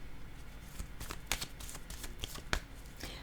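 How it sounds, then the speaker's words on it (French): Tarot cards slide and shuffle against a table, a soft papery rustle broken by a few sharper taps and flicks as a card is set down, close and quiet with no talking. "Je vais déposer une carte ici."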